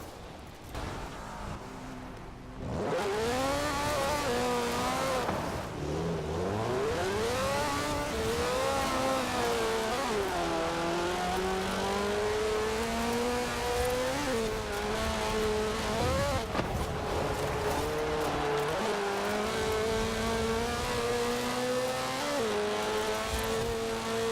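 Race cars in the video game Forza Horizon 4 roar steadily for over twenty seconds, engines rising and falling through gear shifts with sweeping pitch changes, loud and close with no talk.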